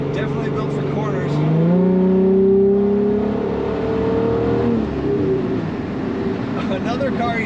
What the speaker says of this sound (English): Another car you just want to play with the throttle on to listen to.